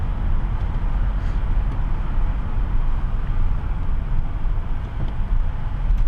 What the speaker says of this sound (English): So this is rush hour traffic in Toronto.